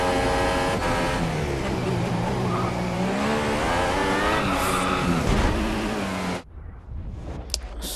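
Formula 1 race car in F1 2022 screaming at high revs, a loud continuous engine whine rising and falling through gear changes, then cutting off sharply to quieter clicks.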